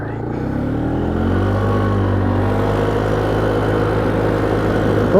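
A Polaris Sportsman 500 ATV engine runs at full throttle, a loud, close and steady droning roar that holds its pitch for several seconds with no break.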